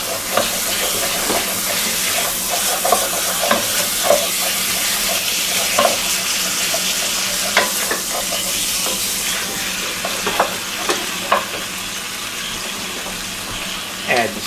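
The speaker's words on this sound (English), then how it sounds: "Give that a little bit of stir around." Pork fingers sizzle and fry in a pan for brown gravy, with steady frying noise throughout and repeated scraping clicks as they are stirred, close and fairly loud.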